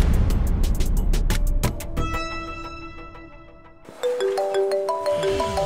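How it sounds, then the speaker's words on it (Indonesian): Mobile phone ringing, a melodic electronic ringtone playing repeated high chiming notes that shift partway through, fairly loud and close with no speech over it. "Bentar, Jo, saya angkat telepon dulu"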